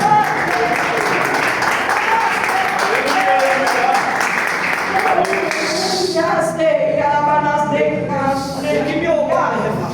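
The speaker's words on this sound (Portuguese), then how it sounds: "Aplauda Jesus, seguida a palma para nós." A church congregation claps in a broad, steady round of applause for roughly six seconds before it gives way to a voice and music.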